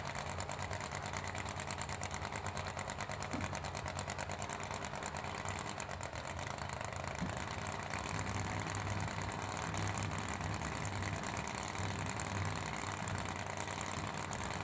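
A 1968 big block Camaro drag car idles at the start line of a drag racing event, its steady, fairly faint engine drone holding evenly throughout with no talking.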